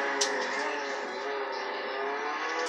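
A car in the Roblox video game drifts, its engine sustaining a steady, close, tonal whine with layered harmonics for a few seconds and no pauses, and nobody speaks.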